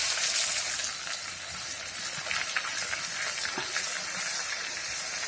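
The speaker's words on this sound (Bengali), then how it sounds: "এখন হচ্ছে বেগুনগুলো এইভাবে ভেজে নেব" Eggplant slices fry in hot oil in a pan, giving a steady, moderate sizzling hiss with small crackles and no talking.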